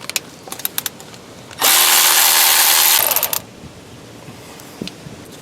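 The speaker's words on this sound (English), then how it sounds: "That's a 10mm bolt, so undo that." A power tool spins off a 10mm bolt under a car, one loud steady whir lasting under two seconds, framed by small metallic clicks and clinks of parts and tools.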